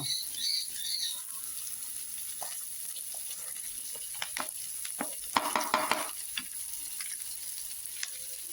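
Chopped brinjal with curry leaves sizzles in a pan, a faint steady frying hiss with soft intermittent stirring scrapes and clicks, close by and without talk.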